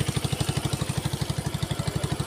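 A motorcycle engine idles smoothly without rattle, a steady rapid low thumping pulse that repeats evenly and close up, with no voices over it.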